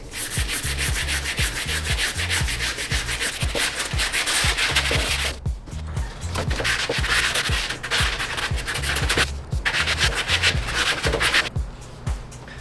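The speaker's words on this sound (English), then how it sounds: "I'm gonna use our Hercules 60 grit paper, attach that to here, and start sanding away." Loud, continuous sanding with a 60-grit Hercules pad on a car's front bumper, a rhythmic back-and-forth rasp, briefly pausing twice before resuming, coarse grit scraping against the surface.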